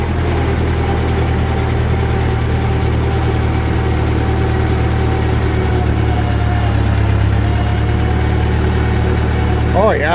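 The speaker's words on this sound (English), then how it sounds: "Slow the motor down and see if she'll go up this hill in second gear" A 1941 Ford 9N industrial tractor engine running at slowed revs, a steady, loud low chugging drone held throughout, with a voice briefly heard at the end.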